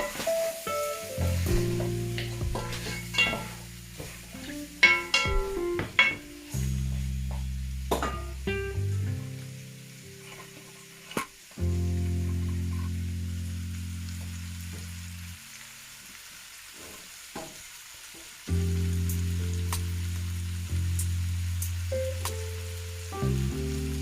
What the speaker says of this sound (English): they call that browning your meat in Jamaican terms